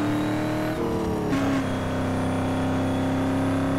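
Supercharged Lamborghini Urus engine in the Need for Speed Most Wanted racing game on PC, a steady loud droning hum with tonal whine, one brief pitch shift like a gear change, then steady again.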